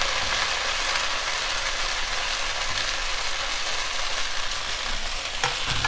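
Rice cake (pitha) frying in mustard oil on a hot tawa, giving a steady, close, even sizzle that holds without a break and has a slight clink near the end.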